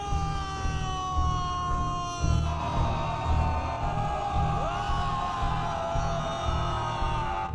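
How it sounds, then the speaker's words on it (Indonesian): A crowd of samurai warriors bellow and yell together in sustained, overlapping war cries, loud and continuous with rising shouts. "Daizen bersama pasukan yang lain bersiap dengan teriakan perangnya."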